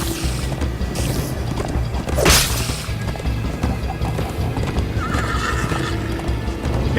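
Horse from Minecraft Story Mode neighs loudly once near the middle, a whinny sweeping over steady galloping hoofbeats that run throughout, with no talk.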